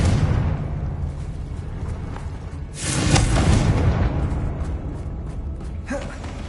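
Confringo fire blast spell cast in the Hogwarts Legacy game, a surging whooshing burst of flame that swells midway over a constant rumbling backdrop, with faint further bursts afterward.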